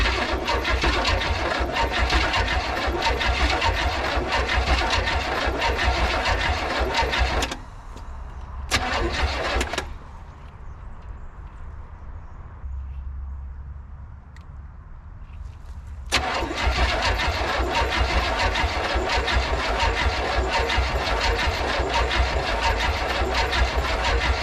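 An old, rusty square body truck engine cranks, catches and settles into a loud, rough idle, drops away briefly to quiet cranking and near silence, then fires up again and runs steadily.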